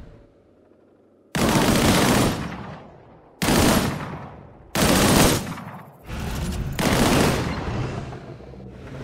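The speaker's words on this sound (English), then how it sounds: "Shoot that barrel." Gunfire in the video game Disintegration aimed at a barrel: four loud, separate bursts of rapid shooting, each lasting about a second or more, with short quiet gaps between them.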